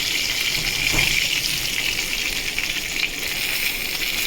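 Fish head frying in hot oil in a pan, a steady close hissing sizzle that holds evenly throughout without voices.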